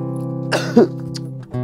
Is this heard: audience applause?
no